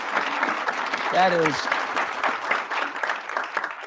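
Studio audience applause for a hospice nurse, a short burst of clapping with a voice speaking over it.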